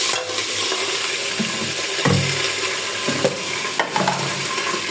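Ginger and cumin paste sizzling in a pan over fried onion and tomato for spicy chicken curry, a bright steady frying hiss broken by scraping stirs and spatula knocks, no voices.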